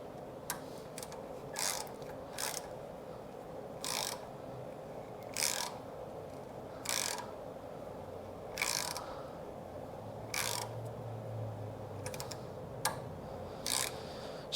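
A thread-repair tap is worked by hand into a lawn mower's spark plug hole, giving a series of short, evenly spaced ratcheting clicks, close and fairly quiet, with pauses between turns.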